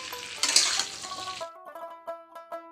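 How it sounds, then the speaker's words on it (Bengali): Eggplant and green chilies being stirred in a frying pan, a busy sizzle for over a second, then it quiets to lighter scraping taps and a clinking, ringing utensil against the pan. "এবার একটু নাড়াচাড়া করে নেবো।"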